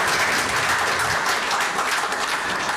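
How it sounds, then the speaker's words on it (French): Warm audience applause for Minister Alioune Sall at the close of his speech, dense, loud and continuous clapping from a large crowd, sustained evenly throughout. "je vous invite à l'applaudir encore très chaleureusement parce qu'il a travaillé"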